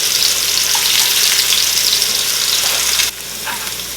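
Short ribs sear in a hot pan with a steady, loud broadband sizzle that drops to a quieter crackle near the end, with no talking.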